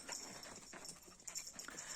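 Dogs close by, with soft panting and scuffling over a steady background hiss; no clear barks.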